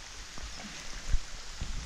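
Steady rain falls outdoors during a magnet fishing outing, a continuous soft hiss with a few low knocks and bumps near the end, no voices.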